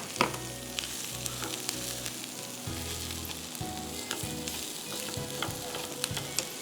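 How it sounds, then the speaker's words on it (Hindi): Boiled, mashed potatoes are mixed into onions in a frying pan, with a loud, steady sizzle and frequent scraping and thumping of a spoon against the pan, and no voices. "मैंने चूल्हा ज़रा सा बंद कर दिया है कि अच्छी तरह से मैं इसको मिक्स कर लूँ प्याज के साथ।"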